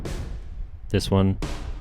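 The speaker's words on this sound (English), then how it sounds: "Snares are a mixture of 3 different samples." A short, punchy snare drum hit with a ringing tail sits between stretches of someone talking.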